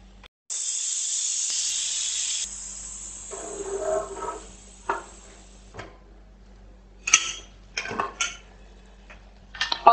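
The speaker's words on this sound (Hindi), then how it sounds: "अब हम प्रेशर कुकर का प्रेशर निकाल देंगे।" A loud, sharp hiss of steam bursts from a pressure cooker for a couple of seconds, then fades into clinking of metal pots and utensils.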